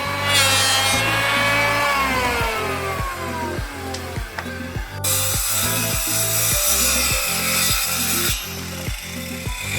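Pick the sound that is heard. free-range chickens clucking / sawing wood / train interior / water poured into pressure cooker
sawing wood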